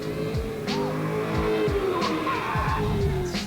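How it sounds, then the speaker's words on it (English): A Chevrolet Corvette drifting, tires squealing in long skids while the engine revs rise and fall, heard at a moderate distance through several bursts of tire noise. "he's gonna drift a Corvette"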